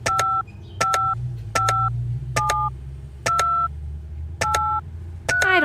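Telephone keypad dialing tones in a detective adventure game, a steady series of about eight dual-tone beeps at an even rhythm over a soft low hum, loud and clear with no talking.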